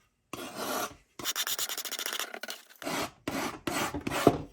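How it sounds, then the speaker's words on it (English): Degraded plastic on a 1975 Yamaha DT250 motorcycle fender is scraped off in several close, raspy strokes. A quick run of rapid back-and-forth rubs sits in the middle, and short pauses separate the passes. "scrape this off, and then I'm going to get some sandpaper on there and try to smoothen it down even more."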